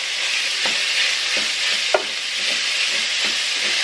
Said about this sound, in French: je vais venir donc ajouter ma viande hachée. Et on va bien mélanger le tout.